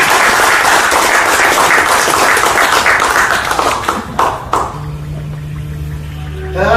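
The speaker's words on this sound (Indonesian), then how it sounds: "saya kira kita sekali lagi tepuk tangan untuk Habib" An audience at a gathering with Habib Rizieq applauds in a dense, loud burst of clapping that thins and fades over several seconds, leaving a quieter hum behind.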